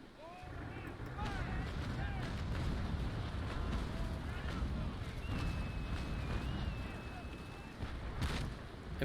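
Cannon broadside fire from a sailing warship in the Naval Action game, heard as a dense, rumbling roar of blasts with booming low end that stays loud and sustained throughout.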